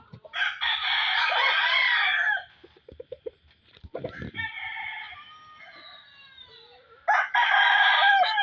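A gamecock rooster crows loudly and close by, with long strained calls at the start and end and a middle stretch of softer clucking and quieter vocalising, after rain.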